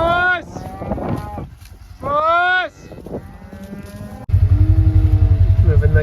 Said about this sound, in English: Moving the cattle on to wheat.